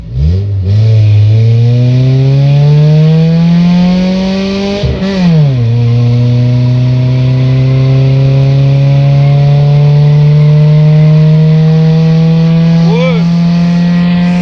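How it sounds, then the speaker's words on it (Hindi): A car engine revs hard on a power test run at a night track event, its pitch climbing steadily, dropping briefly at a gear change, then holding a loud sustained drone close to the microphone throughout. "गाड़ी माशाल्लाह बहुत अच्छा भाग रही है ना।"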